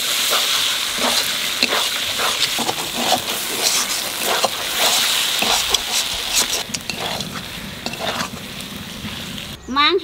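Mutton keema frying and being stirred in a spiced masala for a raw jackfruit dish, with steady close sizzling broken by repeated scraping stirs and a brief clatter at the end.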